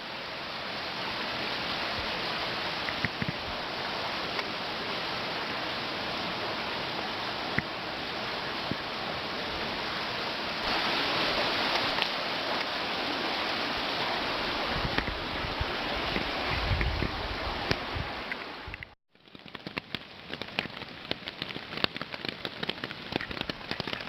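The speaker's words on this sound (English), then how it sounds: "It's been pouring rain since 4 o'clock in the morning." Steady, dense hiss of heavy rain pouring down in a canyon along the Fundy Footpath, loud and unbroken, with a brief dropout near the end before the downpour resumes.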